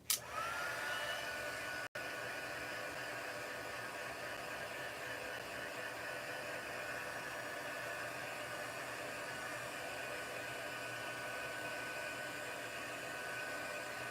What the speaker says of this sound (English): got my heat gun down because I figured that might help reduce the sound of it